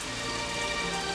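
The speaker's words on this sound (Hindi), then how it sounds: "बारिश रुक गई लगता है, हल्की सी बौछार थी।" A light rain shower patters steadily on surfaces in a drama scene, a soft, even hiss of drops with no voices.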